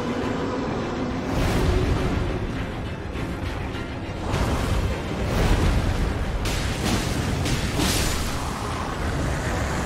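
Jar cannon explosions in the Elden Ring video game boom and rumble in heavy, overlapping bursts throughout, loud and continuous with no talking.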